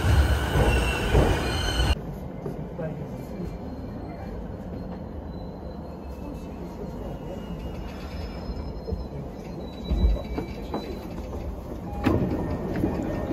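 Train in Japan rumbling along the rails with steady low roar and recurring metallic wheel squeals, loud and close throughout, with a brief louder burst near the start.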